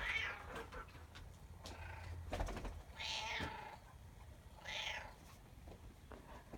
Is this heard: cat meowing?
yes